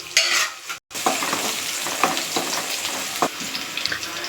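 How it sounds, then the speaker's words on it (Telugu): Onions and cloves fry in a pan with a steady hissing sizzle, punctuated by a series of sharp spoon scrapes and taps, and a brief gap early on. "లవంగం వేసుకున్నాక ఆనియన్స్ బాగా రెడ్ కలర్ వచ్చేంత వరకు ఫ్రై చేయాలి"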